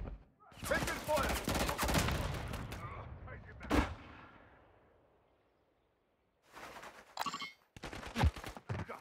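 Bursts of gunfire in the multiplayer video game Call of Duty, heavy clustered shots in the first few seconds, a sharp single blast near four seconds, then renewed firing after a quiet gap, with game voices mixed in.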